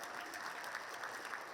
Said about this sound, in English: Let's do a round of applause for everybody.